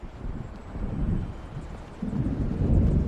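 Deep rolling thunder from an approaching storm in Alan Wake Remastered, a low rumble that swells and grows louder toward the end, with windy noise underneath.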